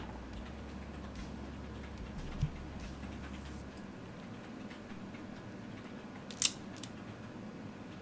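Wire cutters snip through wires while installing a Joker TAP probe on a Voron V2.4R2 3D printer, giving two short, crisp clicks several seconds apart over a low, steady background hum.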